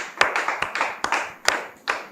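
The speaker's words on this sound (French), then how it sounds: "Merci donc de recevoir sous vos applaudissements notre invitée de ce soir." A studio audience welcoming a guest on a French talk show claps in a slow, even rhythm, about five sharp unison claps spaced roughly every half second, moderately loud with nothing else over them.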